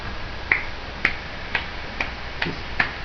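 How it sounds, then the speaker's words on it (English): Six soft, quiet golf claps, evenly spaced about half a second apart, each a light, close tap with nothing else around them. "Just a little golf clap because someone's sleeping"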